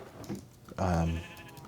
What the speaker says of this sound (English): We've got a little sheep farm going right here.